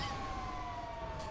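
A police siren on a vehicle in the video game GTA 5 holds a steady tone over a dense wash of engine and road noise, loud and continuous.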